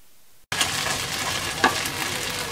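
Coconut and poppy seed paste hits a hot pan with a sudden loud sizzle after a brief quiet moment, then a sustained bubbling hiss with a stirring scrape, close up and without talking.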